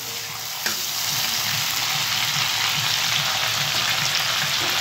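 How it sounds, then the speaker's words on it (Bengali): Green chillies and nigella seeds frying in oil, a dense, even sizzle hissing steadily at close range after a brief knock near the start, with no voices. "কাঁচা লঙ্কা কালো জিরে দিয়ে দিলাম বন্ধুরা"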